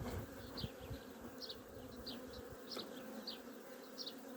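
Steady hum of many honey bees buzzing in an open hive, dense and continuous, with brief higher chirps scattered throughout; no voices.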